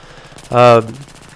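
Gunfire in the Battlefield 3 video game: a single short burst of shots, loud and close, with quiet background before and after.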